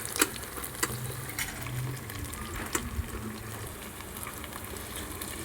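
Onions, chilli and ginger garlic paste fry in a pan on an electric cooker for chicken curry, giving a steady soft sizzle with occasional faint clicks and stirring taps throughout, with no voices.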